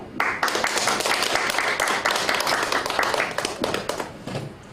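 Hands clap steadily and loudly across a meeting room as an audience welcomes speakers at a gathering of the Incheon underground shopping mall emergency committee, a dense, even patter that thins near the end.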